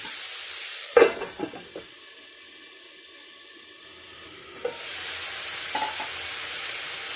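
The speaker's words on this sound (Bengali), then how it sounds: "আলু গাজর পেঁয়াজ সমস্ত কিছু একসাথে নেড়ে নিয়ে কিছুক্ষণের জন্য ঢাকা দিতে হবে" Potatoes, carrots and onions cooking in a frying pan for a vegetable egg bhurji, a soft steady sizzle and hiss with a few sharp spatula knocks and scrapes near the start and end.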